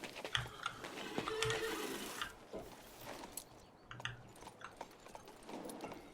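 A horse's hooves clip-clop in the King's Bounty 2 fantasy game, an irregular run of light knocks and scuffs at moderate volume, with no talking.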